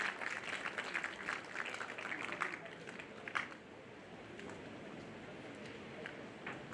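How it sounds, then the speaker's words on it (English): At a college graduation ceremony, an audience claps, heard as faint, scattered applause in a large hall. Individual claps stand out here and there, and the clapping thins out after a few seconds. "Please offer a big round of applause."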